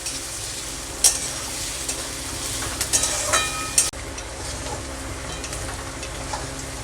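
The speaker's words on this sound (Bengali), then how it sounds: "পেঁয়াজটা আমি একটু লাল লাল করে ভেজে নেব।" Onions frying in a pan, a soft continuous sizzle with a few sharp clinks of a utensil stirring against the pan, fairly quiet and close.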